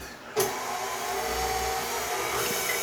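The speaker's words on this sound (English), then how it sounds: "we're going to put 6 egg yolks into our mixer. And start at low speed." A stand mixer fitted with a whisk runs steadily at low speed with egg yolks in the bowl, giving a constant close motor whir after a short start-up click.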